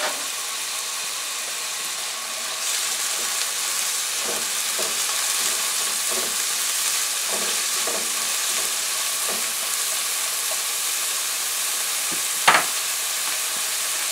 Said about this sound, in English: I'm going to let the onions cook for about 3 minutes